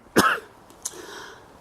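A single sharp cough from a person outdoors at a park near a castle, followed by a softer throat-clearing cough, close and fairly loud against quiet background.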